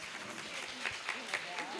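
Audience applause at a live music concert in Mysore, thanking the sound engineer; a faint, steady patter of clapping from a crowd with a voice talking over it.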